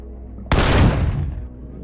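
A single loud sniper rifle shot in the video game Empyrion Galactic Survival, an abrupt sharp blast that rings out and decays over about a second against a low, quiet hum.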